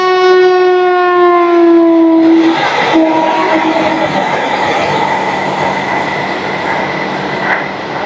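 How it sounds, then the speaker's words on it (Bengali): A Vande Bharat express train at a railway station sounds a long loud horn with steady tones, then rumbles past continuously without any voices. "অবশেষে বন্দে ভারত আসছে"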